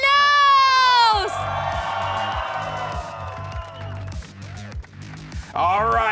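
A large esports arena crowd at a VCT Americas Valorant match roars and cheers for Sentinels, a sustained loud swell of whoops and screams under an announcer's amplified voice, with music pulsing beneath.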